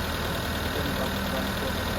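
A 2001 Mitsubishi Lancer CE coupe, newly revived after sitting abandoned for four years, idles with a knocking engine, giving a steady, continuous mechanical drone close by.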